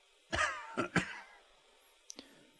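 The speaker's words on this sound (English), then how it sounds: "He coughs once more" A few hoarse coughs from a character in the video game Disco Elysium in quick succession, fairly close, followed after a pause by one short, quieter cough.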